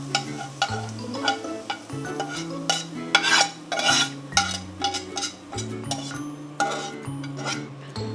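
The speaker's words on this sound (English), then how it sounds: "So we're gonna put them in a little separate bowl." Cooked onions are scooped from a hot pan into a separate bowl, with repeated spoon scrapes and soft clinks against metal over steady background music.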